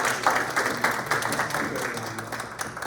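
An audience at a high performance home panel event gives a steady, dense round of applause, sustained and fairly loud throughout, with a faint murmur of the crowd underneath.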